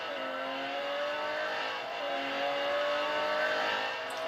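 A Lamborghini Centenario in the Real Racing 3 racing game accelerates, its engine a steady rising whine with climbing tonal harmonics, close and continuous with no voices.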